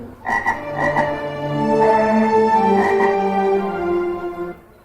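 Frogs croak in a dense, continuous chorus, loud and close, with rough, overlapping pulsing calls and no talk, heard at a school annual day event.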